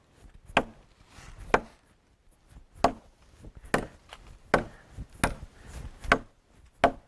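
A blade chops into solid wood and sends chips flying. About eight sharp, hard whacks land at uneven intervals, close and crisp, with quieter scraping between them.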